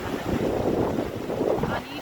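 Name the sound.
water overflowing a weir and flowing downstream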